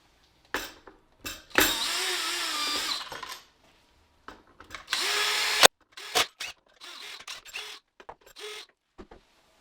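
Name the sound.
power tool dismantling robot lawn mowers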